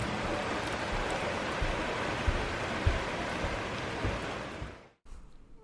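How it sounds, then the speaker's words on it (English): Steady, dense rain falls outside on a wet autumn evening as an even hiss with a few soft drips, then cuts off abruptly near the end, leaving a quieter background. "It's really wet and rainy outside."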